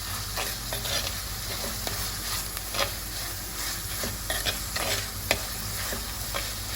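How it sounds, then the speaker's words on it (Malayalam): Chopped tomatoes go into a pan of frying egg bhurji and are stirred, giving a constant loud sizzle with scraping spoon strokes throughout and no talking. "നമ്മൾ നേരത്തെ അരിഞ്ഞു വെച്ചിരുന്ന തക്കാളി ഇട്ട് കൊടുക്കാം"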